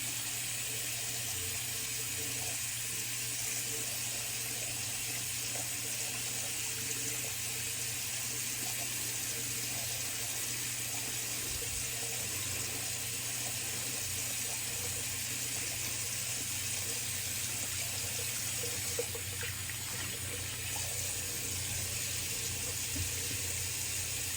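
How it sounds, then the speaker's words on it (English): Cold water runs steadily from a tap for a rinse after wet shaving, a continuous even hiss that holds at the same level for the whole stretch. "And cold water rinse."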